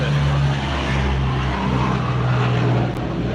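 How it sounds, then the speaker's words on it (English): An airplane passes overhead outdoors, a steady loud broadband roar with a low droning hum that holds for several seconds with no speech. "sorry, plane."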